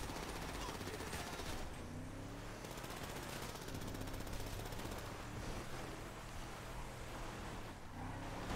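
Video game gunfire crackles in rapid bursts over a loud, noisy background with vehicle-like rumble, the shots dense and hard to separate.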